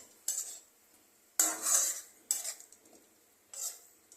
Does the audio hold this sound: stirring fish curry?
yes